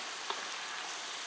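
Farfalle pasta sizzling and frying in a hot pan, a steady close hiss with faint scraping ticks as it is stirred, and no voices.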